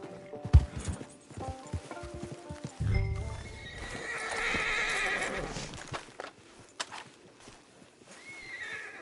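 A horse in Red Dead Online whinnies loudly and close, with clip-clopping hooves and scattered thuds around it, then quieter shuffling as the neigh fades.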